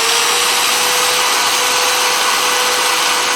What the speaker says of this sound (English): you take the sander,